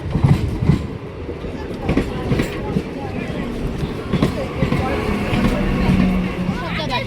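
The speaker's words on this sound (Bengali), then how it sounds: "তোমরা দেখতে পাচ্ছ আমাদের ট্রেন ঢুকে গেছে কৃষ্ণনগর স্টেশনে।" A train pulls into Krishnanagar station with a steady, loud rumble and rhythmic wheel clatter that runs through the whole stretch, under a murmur of crowd voices.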